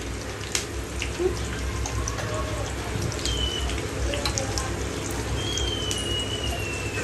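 Oil tempering with cumin, mustard seeds, a little fenugreek and dried red chillies frying for a gongura pickle, heard as a steady, dense sizzle and crackle throughout with scattered faint pops.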